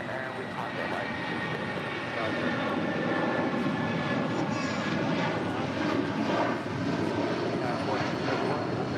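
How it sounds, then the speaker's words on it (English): A China Cargo Airlines Boeing 777 freighter on arrival from Shenzhen makes a steady, loud jet engine roar that fills the whole stretch with broadband rumble and slight swells. "China Cargo Airlines Flight 229 coming in from Shenzhen and a 777 freighter"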